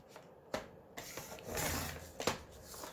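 Paper being cut to make an extra pocket for a small mini folio, heard as close, soft rasping and rubbing strokes with a few sharper snips and rustles, without any talking.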